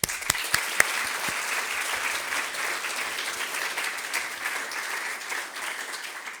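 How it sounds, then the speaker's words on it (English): An audience at a sustainability showcase gives a round of applause: a few sharp individual claps at the start, then steady moderate clapping from a crowd for several seconds. "So a big round of applause again."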